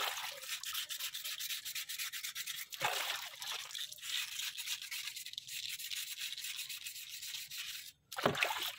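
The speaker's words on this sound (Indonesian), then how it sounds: "Jadi ini diamplas seperti ini dengan air." Steady wet rubbing of used sandpaper over a brake disc with water, moving in circular strokes, a continuous close scratchy hiss with brief pauses near three and eight seconds.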